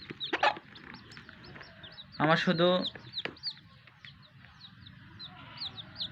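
Desi chickens and chicks on a farm: repeated high chick peeps scattered throughout, with a loud hen cluck in the middle, heard close, while a person speaks briefly.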